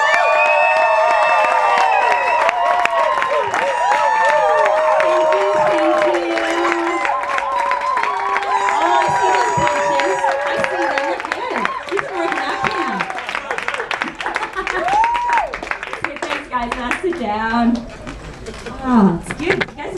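A church family-dinner audience claps and cheers loudly and steadily to welcome a pastor, with whoops and shouts over the applause and a voice speaking through it.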